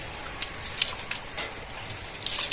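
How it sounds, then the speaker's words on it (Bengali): Rain falls steadily outside a balcony, a soft continuous patter with scattered brighter drops splashing on nearby surfaces, heard close and alone without talk. "বুঝতে পারছো কিরকম বৃষ্টি হচ্ছে।"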